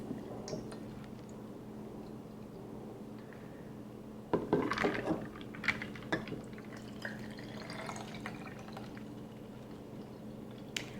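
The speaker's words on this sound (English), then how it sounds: "It's kind of a healthy pour of tequila." Tequila pours into a glass in a short, splashy burst with a faint clink, then quieter trickles over a low steady background hum.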